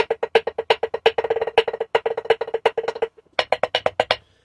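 Rapid sharp taps on a drum practice pad resting on a player's lap, a steady run of close, dry strokes with brief bursts and a short pause before a final quick flurry.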